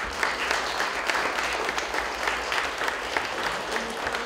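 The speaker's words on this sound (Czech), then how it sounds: "myslím, že si zaslouží potlesk" An audience at a Czech project seminar conference claps for the organisers, producing sustained, even applause from many hands, fairly loud and continuous, with no talking over it.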